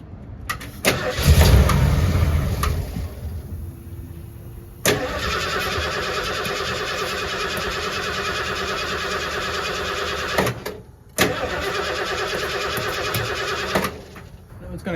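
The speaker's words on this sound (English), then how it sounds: "I'm gonna try to prime this with some starting fluid and see if we can get it to fire up" A 1979 Ford F350 engine primed with starting fluid cranks in a brief loud burst, then catches and runs at a steady idle for several seconds, cuts out briefly, and restarts into a sustained close-up idle.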